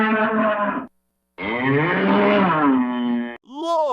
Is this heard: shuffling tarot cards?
no